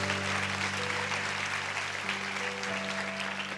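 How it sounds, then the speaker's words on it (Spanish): Applause from a church congregation fills the space steadily and at moderate volume, with no pause, alongside a faint held tone that may be music. "dale un aplauso a Dios con todo tu corazón"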